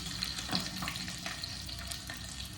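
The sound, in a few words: garlic frying in hot oil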